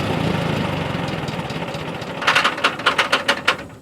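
An old Lindsay air compressor's engine runs on a faulty carburetor and won't settle to idle, its rough steady drone turning into a loose, rhythmic knocking surge of pulses near the end, close up and alone.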